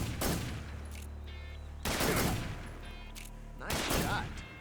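Gunshots in Metal Gear Solid 3: Snake Eater ring out three times at roughly two-second intervals, each a loud, close crack with a lingering rumbling tail over a low background drone. A voice is heard faintly during the clip.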